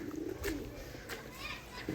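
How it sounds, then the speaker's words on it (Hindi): Soft, low pigeon coos sound faintly a few times against a murmur of distant voices and children in the background, in a village along the Narmada River. "यहाँ पर बहुत अच्छे अच्छे कबूतर हैं"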